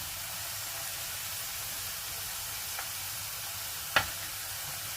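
Homemade potato crisps fry and bubble in hot oil, giving a constant hissing sizzle with one sharp clink of a utensil near the end.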